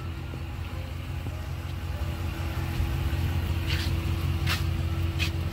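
A 2019 Dodge Ram 1500 pickup with a 5.7 Hemi V8 idles with a steady, low rumble, heard close and constant, with a few faint higher clicks near the end.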